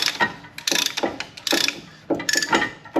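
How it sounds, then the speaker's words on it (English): A brake caliper compression tool forces the piston back into a front brake caliper on a Kia Forte or Hyundai Elantra, giving several bursts of ratcheting mechanical clicks in quick repeated strokes, close and fairly loud with no talk. "it makes compressing the calipers as easy as this"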